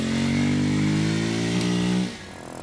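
A motorcycle engine idles steadily and loudly in a workshop with an exhaust gas analyzer connected to the tailpipe, its tone dropping to a quieter idle near the end.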